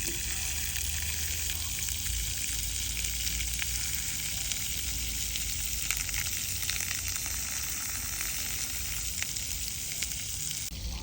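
Water gushes steadily out of a hot water heater tank as it drains, a constant loud hissing rush that continues unbroken from start to finish with no talking.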